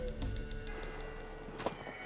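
In The Witcher 3 video game, a horse's hooves clip-clop close by over game ambience, then a short whinny rises near the end, with faint talk in the background.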